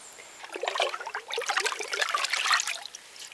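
Bleach is poured onto a calabash bowl as a close, splashy trickle of liquid that runs for about three seconds, without talking.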